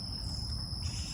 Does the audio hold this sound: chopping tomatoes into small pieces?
no